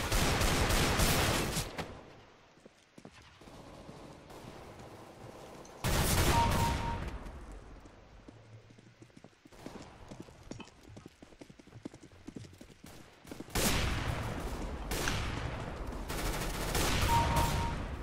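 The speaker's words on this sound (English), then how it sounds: "Let's try a shotgun." Shotgun fire in the video game CS:GO during a deathmatch, loud heavy blasts and bursts of shots clustered at intervals, separated by quieter stretches of game noise.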